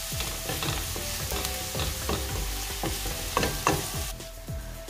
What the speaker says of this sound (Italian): uniamo anche le carote. Lasciamo soffriggere per 3 minuti circa.